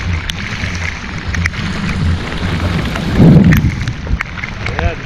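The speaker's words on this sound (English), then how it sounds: "Thunder and lightning over there, not here." A low, muffled thunder rumble rolls in during a storm out on the water, swelling briefly midway through under steady rain-like noise.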